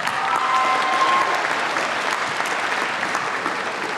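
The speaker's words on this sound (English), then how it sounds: "I need you to give them a round of applause" Sustained applause from a graduation audience honouring parents and guardians, dense and steady clapping filling the whole stretch at a strong, even level.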